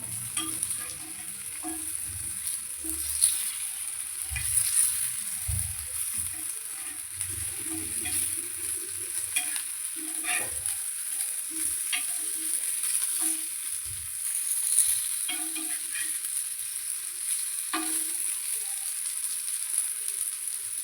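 Elephant foot yam pieces frying in a pan over a medium flame, a soft steady sizzle with intermittent scraping and stirring clatters close by.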